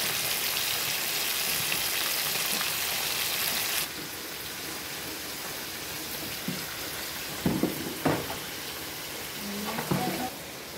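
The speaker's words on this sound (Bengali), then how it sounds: "বন্ধুরা দেখি কীভাবে ফাটছে মাছগুলো" Cut pieces of rohu, catla and bhetki fish frying in hot oil, a continuous dense crackle and spatter like heavy rain, with louder pops and sputters bursting out toward the end.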